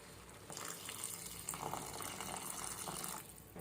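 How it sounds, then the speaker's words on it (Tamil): Water pours into a pan of mushroom gravy, a continuous gushing, splashing flow of about three seconds, fairly quiet and close, with no talking. "தேவையான அளவுக்கு தண்ணி ஊற்றியாச்சு."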